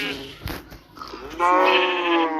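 A sheep bleats loudly and close, a drawn-out wavering call following a brief voice.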